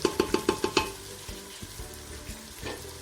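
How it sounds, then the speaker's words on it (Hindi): Potatoes frying in a pan, a quiet sizzle under a quick run of five or six rhythmic stirring knocks at the start, then softer scattered scrapes and steady frying. "थोड़ा सा इनको भी फ्राई कर लेंगे।"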